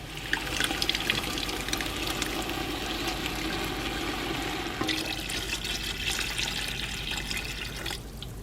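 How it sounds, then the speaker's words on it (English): Hot tap water running steadily into a can, a continuous rushing splash that shifts in tone partway through as the can fills, then cuts off near the end. "I'll fill this can up about 3/4 of the way with hot water and add that to the sauce as well"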